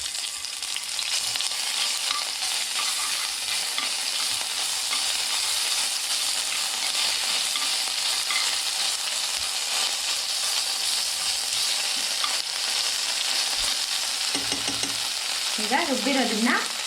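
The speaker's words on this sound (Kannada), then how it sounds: "ಈಗ ನೋಡಿ ಸಾಸಿವೆ ಸಿಟ್ಕೊಡ್ತಾ ಇದೆ. ಈಗ ಜಿಂಜರ್ ಗಾರ್ಲಿಕ್ ಪೇಸ್ಟ್ ಹಾಕ್ತಾ ಇದ್ದೀನಿ." Mustard seeds spluttering and ginger garlic paste frying in hot oil for a hulisoppu curry, giving a steady dense sizzle throughout, with a brief louder crackle near the end.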